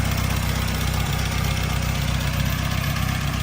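A 1954 Triumph TR2 long-door sports car idles steadily up close, its engine holding a loud, even, throbbing rumble with no change in pace and no voices over it.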